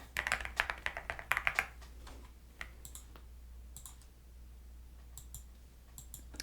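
Quick bursts of clicky key presses on a computer keyboard as IDs are entered at an apartment leasing desk, busiest in the first second and a half, then trailing off into sparse, quieter taps.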